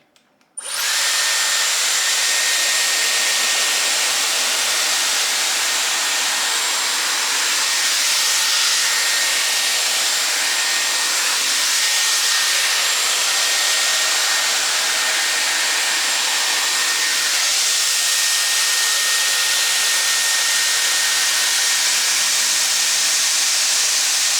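A Dyson Airwrap hair styler blows a steady, loud, high-pitched whirring airflow while straightening hair, running continuously from start to end with no talk.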